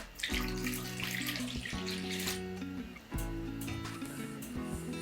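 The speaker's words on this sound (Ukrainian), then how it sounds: "Беру миску, вливаю сюди тепле молоко" Warm milk pours into a bowl in a close, steady, gurgling stream that breaks briefly midway and then resumes, with no talking.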